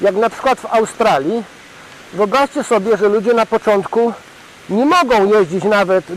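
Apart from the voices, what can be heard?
None of the usual background noises is heard.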